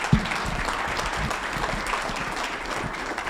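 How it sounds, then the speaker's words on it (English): Audience applause at a Montana Chamber event on renewable energy, a dense, even wash of clapping from a crowd lasting a few seconds with no speech over it. "Can we just give a big round of applause for the Montana Chamber and everything they've done and put together?"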